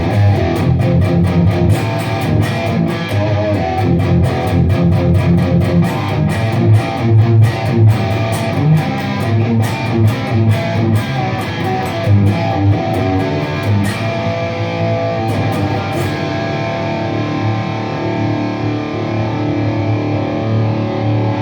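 An electric guitar plays through a two-channel high-gain amp set to about three-quarter gain, giving a loud, sustained distorted tone with chugging strummed chords and picked notes that continue for a long stretch without talk.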